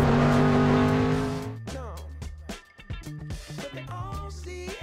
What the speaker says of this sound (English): fantastic noise breathing through these huge Weber carburetors